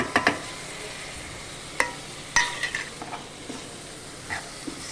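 Chopped tomato dropped into a curry pan of frying chikkudukaya, a few sharp clatters and scrapes of a spoon against the pan over a soft, steady sizzle.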